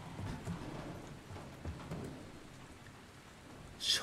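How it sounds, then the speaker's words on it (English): Rain falling outdoors in the video game Dying Light: a faint, steady wash of rainfall hiss with soft low rumbles, ending in a brief crackle, no talking. "here is raining outside"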